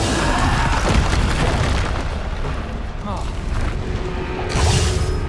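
Bombarda spell explosions in the Hogwarts Legacy game erupt as loud, dense booming blasts that roll on continuously, layered with other busy game effects.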